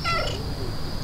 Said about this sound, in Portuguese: E tem um gato aqui comigo.